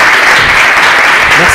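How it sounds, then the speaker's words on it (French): Studio audience at a TV game show in Lubumbashi applauds a contestant named Joël, a loud, dense burst of clapping filling the whole moment with faint voices mixed underneath. "Merci d'applaudir également Joël."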